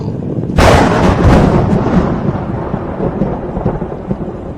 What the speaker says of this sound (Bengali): বাদিকের কালো রঙের একটা ছোট টিলার উপরই করকর রবে বাজ পড়ল।